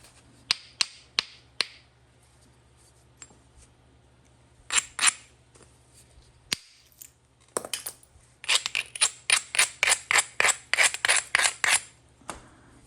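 Flint knapping: a tool strikes and scrapes rough material off a stone in sharp, close clicks, at first sparse and then in a fast, rhythmic run of raspy strokes, with no talking.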